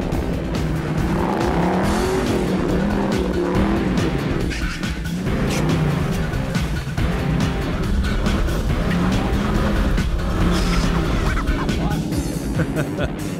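1966 Ford Bronco attacking muddy off-road trail obstacles: a loud, continuous engine roar that rises and falls with throttle bursts, joined by wheel spin and rough knocks and scrapes from the rugged terrain.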